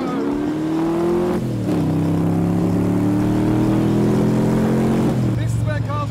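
Road cars drive along the Mulsanne straight of the Le Mans circuit, heard from inside as a loud, steady engine drone that drops in pitch at gear changes, with people talking over it.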